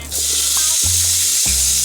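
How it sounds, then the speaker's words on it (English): Lamb chops sizzle loudly in a hot pan, a bright continuous hiss with a couple of soft thumps as the meat shifts. "Sizzle, sizzle, my favourite sound."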